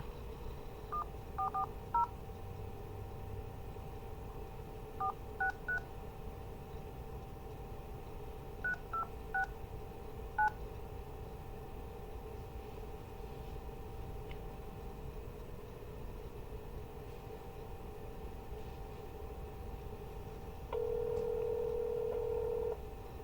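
Phone keypad tones beep in short bursts of several presses, quiet against a low background hiss, followed by a steady tone near the end.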